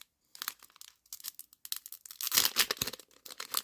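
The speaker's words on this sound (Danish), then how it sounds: "Så åbner vi din sidste pakke her." A Pokemon card pack is torn open by hand, close and fairly quiet, with short crinkling rips of foil wrapper building to a louder tearing burst near the end.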